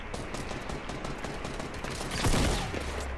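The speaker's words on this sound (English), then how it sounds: "Oh, someone's shooting." Gunfire in the Fortnite Battle Royale duos mode rattles as a steady fusillade of rapid shots, swelling louder near the end.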